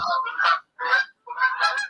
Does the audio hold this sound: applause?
no